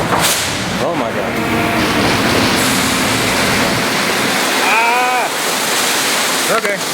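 A car being sprayed down at a car wash: a loud, steady rushing hiss of water spray fills the whole stretch, with voices speaking briefly over it.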